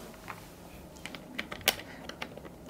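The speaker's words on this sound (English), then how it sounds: "ASMR typing." Faint, close typing on an Epomaker Shadow-S mechanical keyboard with flamingo switches: irregular soft key clicks and taps, with one sharper keystroke standing out, over a quiet background hiss.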